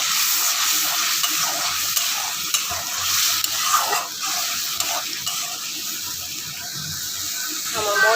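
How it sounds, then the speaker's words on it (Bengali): Spice paste and eggplant sautéing in a pan for a shrimp curry, a steady close sizzle with scraping stir strokes throughout, no voices. "বেগুন দিয়ে আমি আর একটু কষাবো।"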